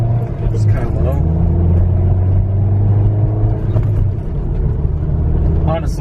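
A car accelerates in a low-RPM pull, its engine a deep, steady rumble droning under ongoing conversation inside the cabin, with brief sharper sounds on top.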